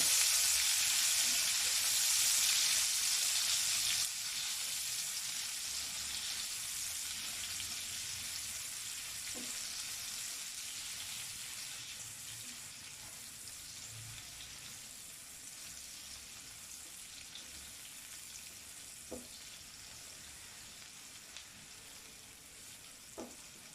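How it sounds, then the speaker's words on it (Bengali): A cup of chopped onion fries in oil for a chicken kofta curry gravy, giving a steady, close sizzle that slowly fades over the span, with a few soft stirring clinks. "এই তেলটার মধ্যে আমি পেঁয়াজ কুচি দিয়ে দিলাম 1 কাপ পরিমাণ, গ্রেভিটা রেডি করার জন্য পেঁয়াজটা আমি একটু লাল লাল করে ভেজে নেব"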